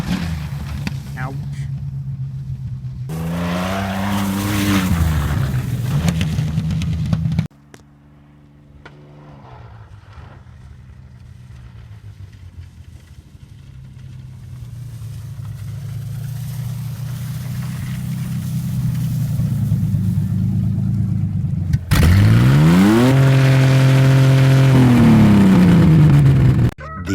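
A Ford Ranger engine revs hard in loud sweeping bursts, rising and falling in pitch, with a quieter stretch of engine drone in between and a sharp final surge of revving.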